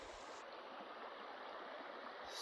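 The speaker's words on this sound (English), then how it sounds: "this creek just goes for miles and miles and miles" A snowy winter creek runs steadily, its broad rushing hiss of flowing water continuous and even throughout, close by with no voices.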